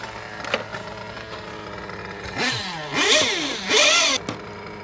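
A Mugen MBX5 custom-chassis rally game RC car with an RB 7T nitro engine and 16T clutch bell, tested on the bench: a buzzing idle followed by three short, sharp rising revs, close and loud.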